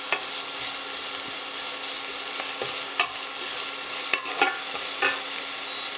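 Pork sizzles steadily in a hot pan for kimchi fried rice, a continuous close crackle with a few sharper pops and stirring scrapes, no talking.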